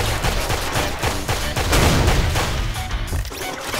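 Rapid, continuous gunfire in the side-scrolling shooter Intrusion 2, dense overlapping shots and booming impacts filling the whole stretch at high loudness.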